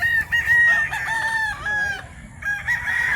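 Rooster crowing at a farm in Mantalungon, Barili, Cebu: several close, loud, sustained crows follow one another across the moment, with some overlap and steady background noise.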